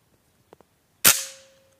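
A single sharp crack from a Reximex Zone spring air rifle firing a slug pellet, loud and close, decaying quickly with a faint ringing tone, preceded by two small soft clicks.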